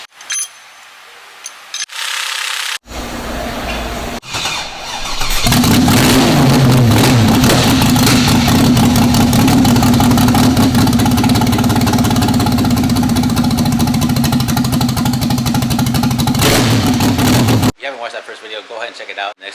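An LS V8 swapped into a Lexus IS300 and fitted with an aggressive cam starts up and settles into a loud, choppy, lumpy idle that pulses steadily for over ten seconds. Quieter passages come before the start and after it.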